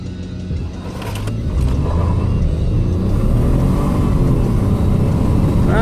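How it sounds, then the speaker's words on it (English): A 2015 Ford F-150 EcoBoost pickup accelerating hard from 0 to 60 mph gives a loud, close, continuous engine rumble and road roar that builds and holds steady. "So we'll do another little 0 to 60 real quick. Try to get a little less wheel spin on it."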